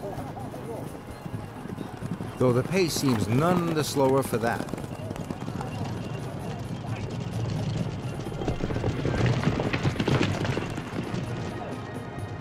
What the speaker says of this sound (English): the horses don't gallop but trot